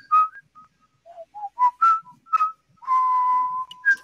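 A person whistles a movie theme tune. The melody comes as a string of short, clear notes that ends on one long held tone, close and alone with no talk.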